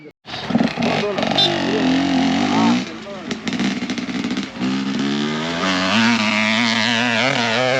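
Motorcycle engine at a high-altitude mountain campsite near Antalya, droning and revving loud and close, its pitch shifting as it accelerates, while people talk over it.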